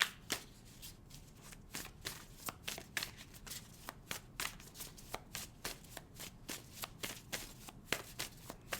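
Oracle cards are shuffled by hand during a tarot reading, giving a long run of crisp, close riffles and slaps in an uneven rhythm with no talking over them.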